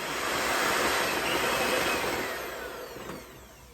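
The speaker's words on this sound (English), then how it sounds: "So our hand mixer. So we're going to whisk this for at least 30 seconds." Electric hand mixer whisking thick lemon walnut bar batter of milk and lemon, a steady close whirring drone that fades slightly toward the end, with no talking.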